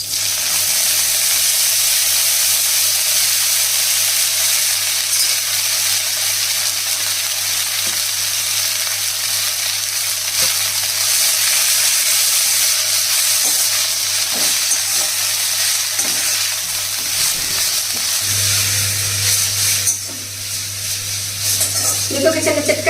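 Tamarind leaves fry in oil in a kadai, giving a steady, loud sizzle and crackle throughout, with occasional stirring clinks and a brief shift in tone near the end.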